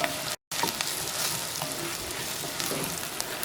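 Shallots and onion frying in coconut oil for a Kerala shallot-tamarind curry, a steady close sizzle and crackle that runs throughout with a momentary cut near the start and no talking.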